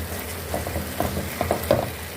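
Cheddar cheese being stirred into a creamy chicken pasta sauce in a pan, with a soft bubbling sizzle under several light scraping strokes of a spoon over a couple of seconds.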